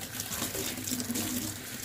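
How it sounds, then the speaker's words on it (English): Tap water runs steadily into a sink while a paint brush is rinsed clean of dish soap, a continuous close splashing flow with no talking. "And then I would rinse this brush."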